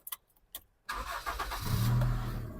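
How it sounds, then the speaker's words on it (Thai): A 2002 Honda City Type Z engine cranks over after a few quiet clicks and catches on the first try, settling into a steady idle close by. "เดี๋ยวเรามาดูในส่วนของ ห้องเครื่องแล้วฟังเสียงเครื่องยนต์กันบ้างนะครับ"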